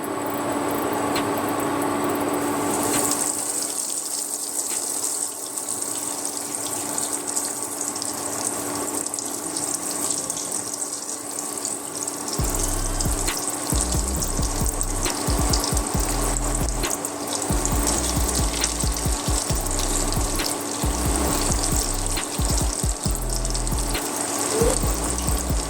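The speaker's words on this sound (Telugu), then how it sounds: "ఇప్పుడు మనము ఆయిల్లో ఫ్రై చేసుకుందాము." Chicken fingers deep fry in hot oil, a continuous close bubbling hiss that runs evenly throughout with a rumbling low layer in the second half, and no talk.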